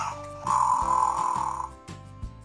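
A low, rasping electronic growl from a small toy panda, rising for about a second, then fading out with a couple of soft clicks.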